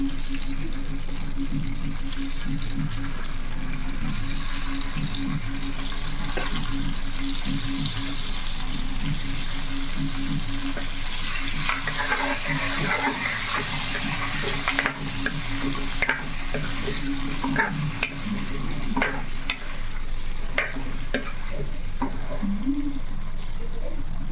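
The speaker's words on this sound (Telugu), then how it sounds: "ఇలా గుడ్లు వేసుకొని తిరుగుతాం" Eggs frying in turmeric oil in a clay pot, a steady close sizzle with scraping stirring strokes and occasional clinks throughout.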